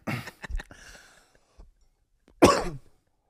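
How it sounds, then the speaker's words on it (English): A person coughs several times in a quick cluster, followed after a pause by one louder, harsher cough, close and dry with no speech around it. "I literally was just coughing. It's just an inconvenient cough."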